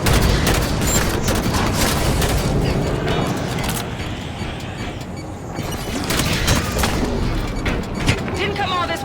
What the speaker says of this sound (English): Shoot and run.